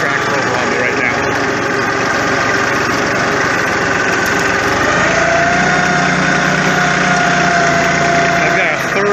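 A Massey Ferguson 1433 compact 4x4 tractor engine chugs steadily at close range while skidding timber on a steep slope, loud and continuous, with a rising mechanical whine partway through.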